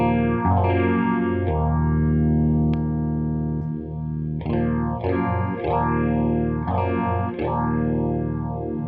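An electric guitar plays chords through a Boss PH-1 phaser pedal, the swooshing whoosh rising and falling in slow repeated waves, loud and up front.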